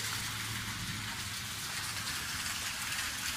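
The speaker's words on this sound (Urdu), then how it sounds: "رات سے بارش ہو رہی ہے" Rain falls steadily at an Islamic center in Buraidah, Saudi Arabia, a dense continuous hiss of drops hitting surfaces, close and even throughout, with no talk.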